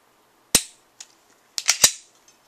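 Smith & Wesson M&P 45 ACP handgun firing outdoors: a sharp report, a fainter pop, then a quick cluster of three close, loud shots, each with a brief tail.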